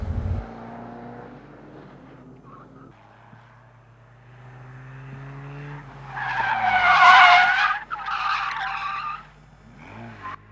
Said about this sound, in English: Basically what you're learning to do is to hold the car in a skid sideways.